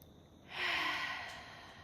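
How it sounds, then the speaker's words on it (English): A single deep breath, drawn quietly and released as a soft, airy sigh that swells and then fades over about a second. It is close and alone, with no speech. "Let's just take a deep breath now, actually."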